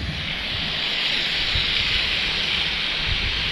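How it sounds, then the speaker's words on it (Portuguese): A side waterfall at an abandoned hydroelectric plant roars as a steady, loud broadband rush of falling water, unchanging throughout with no voices. "Tem até uma cascata lateral lá."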